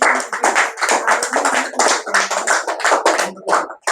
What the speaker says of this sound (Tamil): அக்காவுக்கு ஒரு கைத்தட்டு போட்டுருங்க.